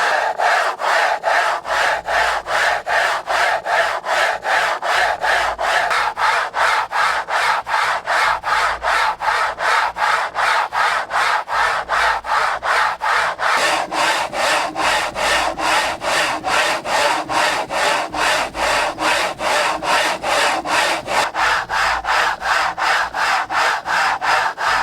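A planer blade is drawn back and forth over a homemade 325 grit sharpener, making a loud, fast, even rasping scrape that repeats in a steady rhythm throughout, with no talking.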